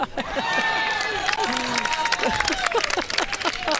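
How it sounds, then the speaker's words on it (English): Spectators at an outdoor pickleball match applaud a point with steady, dense clapping and scattered cheers that carry on throughout, while ball pops and court sounds show through the crowd. "Crowd really appreciative of the skill of some of these points."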